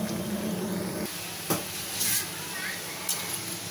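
Banana flower vadai fry in hot oil over medium gas, a steady bubbling sizzle broken by a few sharp clinks and brief stirring scrapes.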